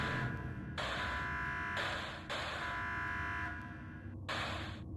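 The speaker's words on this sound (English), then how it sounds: "Alarm." An alarm sounds in the video game Five Nights at Creeper's, loud repeating electronic buzzer bursts of roughly a second each, pulsing on and off over a constant low game hum, with no talking.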